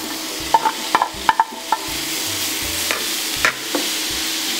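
Mushrooms sizzle steadily in a frying pan over medium heat while a utensil clacks and scrapes against it several times, close up.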